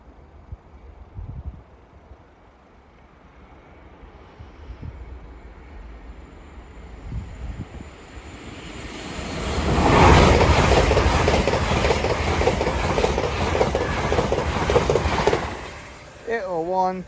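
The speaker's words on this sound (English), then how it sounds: "So this is the LNER service off to Edinburgh Waverley." An LNER passenger train bound for Edinburgh Waverley passes a level crossing, a rising rush building to a loud clattering roar of wheels for several seconds before cutting off, with a crossing alarm and a voice heard at times.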